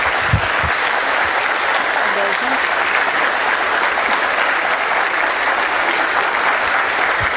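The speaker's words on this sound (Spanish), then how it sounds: "Claro que sí, Joana, queremos que les den otro aplauso a estos chicos porque se los merecen en su aniversario número 22" Sustained, dense applause from an audience at a symphonic band's 22nd-anniversary concert, a loud continuous clatter of many hands with a few brief louder claps and faint voices mixed in.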